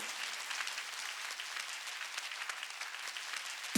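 Steady clapping from a church congregation at an outdoor autumn mountain revival meeting, a dense, continuous patter of many hands at moderate distance with no voices over it.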